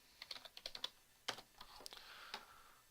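Fingers tap on a computer keyboard in quick, uneven bursts of close, quiet clicks.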